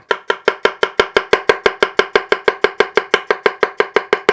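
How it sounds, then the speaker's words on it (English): A bunka knife's blade base chops through a firm carrot in a steady, even rhythm of about twenty crisp, close strikes against the board, each a sharp clack followed by a quick decay, with no voices. "for firmer ingredients like a carrot here, you would use the base of the blade"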